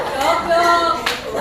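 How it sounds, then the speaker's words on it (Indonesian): Group applause in a school counseling class for two student groups, a short burst of hand claps mixed with voices and chatter. "Tepuk tangan untuk kelompok 3 dan 2."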